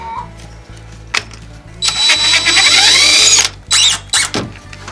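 DeWalt power drill driving screws to mount a fan in a chicken coop, loud short whirring bursts with a rising whine as a screw seats, ratcheting clicks between runs, close by.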